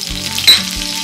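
Crushed dried red chillies sizzle in hot oil over a medium flame, a brief steady frying hiss with a short louder crackle in the middle.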